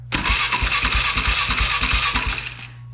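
Starter motor cranking a quad ATV engine, a steady rapid chugging rhythm of pulses lasting about two and a half seconds before cutting off, loud and close with no talking.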